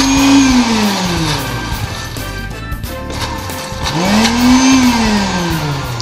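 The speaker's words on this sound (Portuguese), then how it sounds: "Você coloca tudo isso no liquidificador e dá uma ligada" A kitchen blender whirs loudly through garlic and other ingredients, its motor pitch sliding down and back up as the load shifts, a continuous churning grind with no talk over it.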